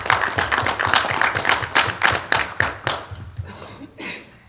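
Several people clap at a council meeting in Roselle Park, a close, uneven burst of hand claps that thins out and trails off near the end.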